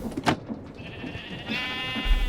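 Sheep bleating in a modded Minecraft wool factory where deployers holding shears clip them, a few short game bleats over a steady machine hum, moderately close.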